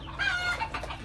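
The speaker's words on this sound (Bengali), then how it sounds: "মুরগিগুলা দেখতেছে।" Chickens cluck close by on a farm, several overlapping calls over a low steady background hum, brief and busy.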